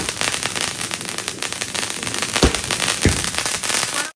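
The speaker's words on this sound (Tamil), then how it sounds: "தீபாவளி பட்டாசு வெடிக்குது" Diwali firecrackers from a 12-shot fireworks cake burst in dense crackling volleys, with two sharper loud bangs standing out near the end, close and continuous throughout.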